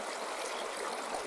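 A fast-flowing river near Khed in Ratnagiri rushes over stones, making a steady, even wash of water noise that continues unbroken throughout.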